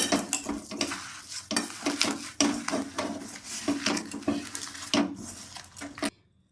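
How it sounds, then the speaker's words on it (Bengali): Grated coconut being hand-mixed with sugarcane jaggery and ginger paste in a kitchen bowl, giving a string of close, irregular soft clatters and squelching stirs that stop abruptly near the end. "আখের গুড় দিয়ে নারকেলের কোড়াটা আদা বাটা দিয়ে মাখিয়ে নিলাম।"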